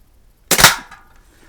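Single sharp crack of a Crosman 140 .22 caliber pellet rifle fired at a can at close range, loud and sudden with a short ringing decay afterward.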